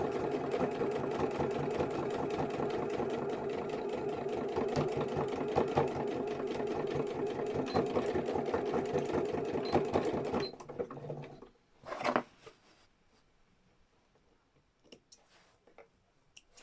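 A sewing machine stitching Gelli-printed fabric journal covers runs fast and steady with a dense rhythmic clatter for about ten seconds, then stops, leaving a few faint handling knocks in the quiet.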